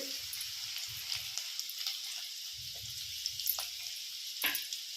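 Fennel seeds and finely chopped garlic fry in hot oil, a continuous bright crackling sizzle with scattered pops and occasional low stirring scrapes, close and fairly loud with no talking.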